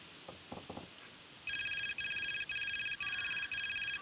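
Telephone ringing in the video game Gray Matter: a loud electronic ring in repeated bursts with short gaps, following a few soft taps.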